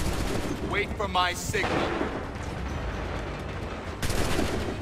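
Musket volley in Assassin's Creed III, a dense rolling crackle of gunfire with a sharp loud burst near the end. A commanding voice shouts over the din.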